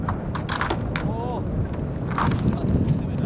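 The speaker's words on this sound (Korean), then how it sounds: "바람 소리가 더 거칠어진다." Strong wind blasts across an outdoor drama shooting set, buffeting the microphone with a steady, heavy low roar, broken by occasional flaps and knocks from tents and props, with no clear talk.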